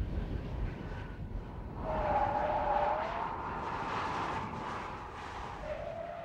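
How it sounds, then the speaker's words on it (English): A police car brakes hard from 85 mph with anti-lock brakes through a curve, giving a steady roar of tire and road noise with a squealing tone that rises midway and fades, then briefly returns. "Here, he'll attempt the same stop at 85 miles per hour with ABS."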